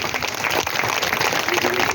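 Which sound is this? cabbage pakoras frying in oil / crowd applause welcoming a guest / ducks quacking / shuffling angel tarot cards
crowd applause welcoming a guest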